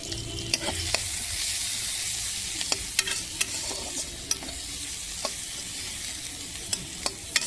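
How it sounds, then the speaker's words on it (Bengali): Onions frying in a pan on a stove on a rooftop, a steady crackling sizzle with frequent sharp clicks of a utensil stirring against the pan. "পেঁয়াজটা ভালো করে ভাজে নিতে হবে"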